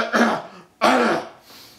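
A person clears the throat and coughs twice, two close, loud, rasping bursts separated by a brief pause, with no other sound.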